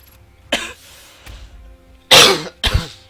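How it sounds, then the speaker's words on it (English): A person coughs three times at close range, harsh loud bursts with a throat-clearing quality, separated by short quiet gaps. "Sorry about that cough."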